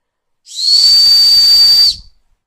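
One loud, steady high-pitched whistle blast lasting about a second and a half, breathy and close, then silence.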